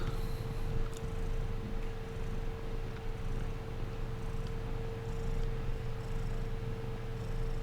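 A cat purrs close by in a steady, continuous low rumble with a soft rhythmic pulse, holding at an even level for the whole stretch with no talking over it.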